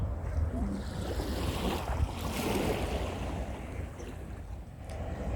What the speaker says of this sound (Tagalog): Maalon na, high tide na.